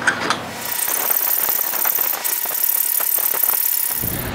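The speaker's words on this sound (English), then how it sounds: "But since it's just two little bolts, I'm just going to use the hacksaw." A hacksaw cuts through two small bolts on a welding cart, giving rapid, scraping metal strokes in a steady back-and-forth rhythm, loud and close, ending with a short clatter.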